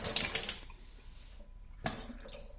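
Hot water runs from a tap into a clogged drain pipe, a close rushing flow that weakens for a moment, then surges back strongly.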